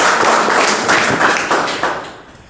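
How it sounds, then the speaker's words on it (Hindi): A small group claps for a boy who won a shield and 2,100 rupees in a match: a burst of hand claps, close and fairly loud, then fading out after about two seconds. "ताली बजाओ भाई।"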